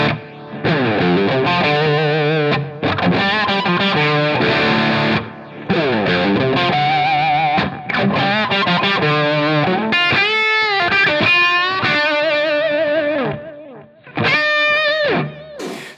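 Electric guitar through a Line 6 Helix Brit Plexi amp model, loud crunchy riffs and bent sustained notes in phrases with brief pauses, played alone.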